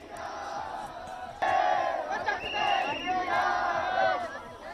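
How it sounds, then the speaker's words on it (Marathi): Students celebrating a successful protest raise a loud crowd roar of shouting and chanting, swelling sharply after a quieter start and staying intense to the end. "जंतर मंतरवर मोठा जल्लोष झाला।"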